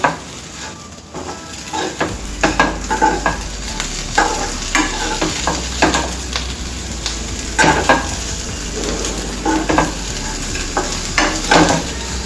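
Spice powder being stirred into stuffed bitter gourd frying in a pan, with steady sizzling broken by repeated scraping and clinking strokes of a utensil against the metal, close and fairly loud, no talk.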